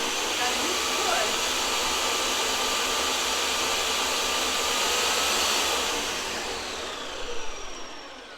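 A blender mixing butternut squash mac and cheese sauce, a loud continuous motor whir that holds steady for several seconds before easing off with a few bumps at the end.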